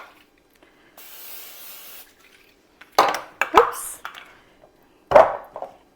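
A short hiss of cooking spray into a crock pot lasts about a second, followed by several clattering knocks of the pot and utensils.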